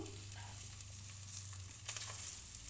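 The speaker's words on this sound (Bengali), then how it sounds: "আগে প্রথমে কড়াইতে ডিমগুলো দিয়ে দিচ্ছি" Fish roe sizzles steadily in a hot wok, a soft continuous frying hiss with a low hum underneath and a brief stir near the end.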